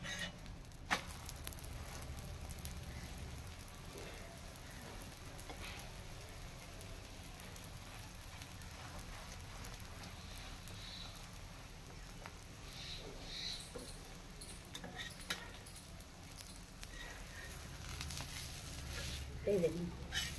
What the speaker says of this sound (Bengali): লাল করে ভেজে নিতে হবে।